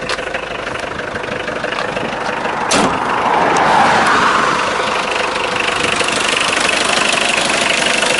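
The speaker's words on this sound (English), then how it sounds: "It's a very good running engine." A 1984 4x4 mini truck's turbo diesel, freshly started after glow plugs, idles steadily with a close, even knocking clatter and a brief louder rev partway through.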